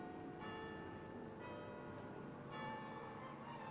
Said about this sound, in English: you can hear the sound of Great Tom, the town's finest bell, pealing out from the Tom Tower of Christ Church College